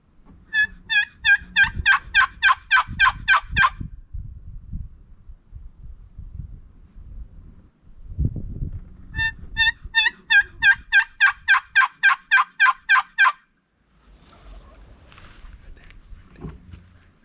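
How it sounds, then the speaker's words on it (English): Rio Grande wild turkeys in Zavala County gobble in two loud, rapid rattling bursts, separated by rustling and low handling noise outdoors. "find one of these big old Rio Grande turkeys here in Zavala County"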